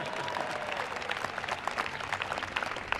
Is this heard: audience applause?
yes